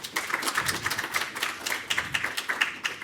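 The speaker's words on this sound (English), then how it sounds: "Let's just give our nominees a round of applause." A small audience claps for award nominees at a youth awards ceremony, with individual hand claps in an uneven, moderately loud patter that holds steady throughout.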